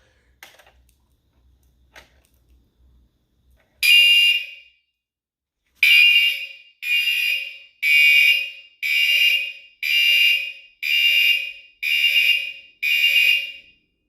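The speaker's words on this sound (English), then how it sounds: "some of the smoke alarms are combo units" A loud fire alarm sounds during a fire alarm system test in a steady pattern of repeated piercing beeps with short gaps, after a few faint clicks and taps.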